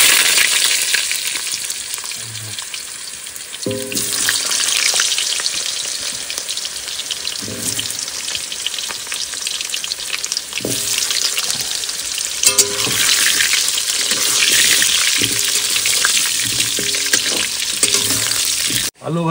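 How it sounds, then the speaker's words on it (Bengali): Potatoes fry in mustard oil in a pan at an outdoor riverside cooking spot, a loud, steady sizzle broken by scraping stirring strokes throughout. "এবারে আলুটা ভেজে নিই।"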